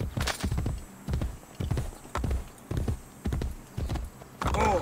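Horse hooves clip-clop at a steady trotting rhythm in Assassin's Creed Brotherhood, close and clear, with a short whinny near the end and a voice talking over parts of it.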